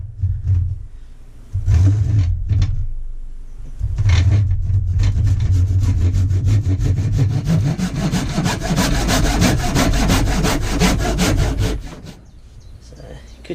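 A handsaw cutting through timber for a timber-framed compost toilet, a few short strokes then a long run of fast, loud rhythmic rasping strokes up close, ending abruptly.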